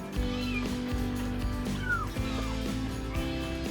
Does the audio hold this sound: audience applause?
no